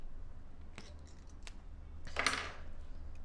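Scissors being handled beside a sewing machine during straight-stitch embroidery, a brief metallic clatter and snip near the end, close and fairly quiet, with faint earlier taps.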